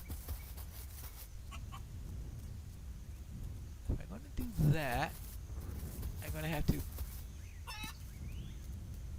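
Chickens in the farming video game Dinkum give a few short, close clucks near the middle, set against a quiet, steady background while someone speaks briefly.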